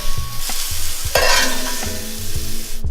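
Chanterelle mushrooms fry in a pan, a loud close sizzle broken by repeated stirring knocks and one burst of hissing spatter midway, with no talking.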